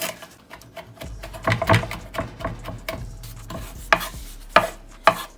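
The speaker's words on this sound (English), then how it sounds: "we are going to cut our parsley up" A knife chops fresh parsley on a cutting board in a series of close, irregular thuds and taps, with sharper louder strikes near the end and no talking.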